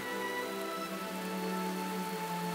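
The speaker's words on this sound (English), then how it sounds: "The deluge may continue off and on for months." Steady heavy rain falls continuously in the African wild, a dense even hiss with a faint underlying hum, quiet and unbroken throughout.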